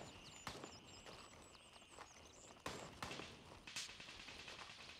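Distant gunfire in the video game Gray Zone Warfare, a few sharp shots and short bursts standing out faintly over a steady ambient background with chirping birds.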